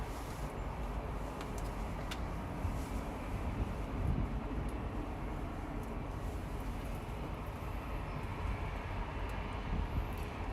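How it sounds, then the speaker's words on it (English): A small CRJ regional jet inbound from Aspen, Colorado, approaching LAX, its steady broadband engine roar sustained and fairly distant, with no talking over it. "Little CRJ flying in from Aspen, Colorado"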